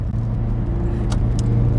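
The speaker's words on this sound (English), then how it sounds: "This is my 2000 Toyota MR2 Spyder" A 2000 Toyota MR2 Spyder engine hums steadily at idle or low speed, a constant close drone with faint brief hisses near the middle.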